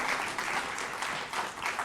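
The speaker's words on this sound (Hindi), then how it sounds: "तो एक बार फिर जोरदार तालियों से अभिनंदन करिए अनुराग ठाकुर जी का।" A studio audience at a televised political interview claps steadily and briskly, a brief, even burst of applause with no talk over it.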